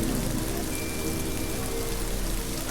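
Steady rain falls in a continuous dense hiss at a fairly quiet level, with no distinct drops or pauses, as in a rainy night scene in a Malayalam film.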